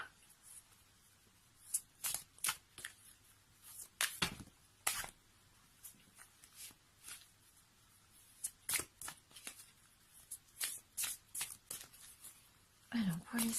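Tarot cards are shuffled and drawn during a reading, a close, quiet run of separate riffling swishes and slaps at irregular intervals, with soft handling noise between them.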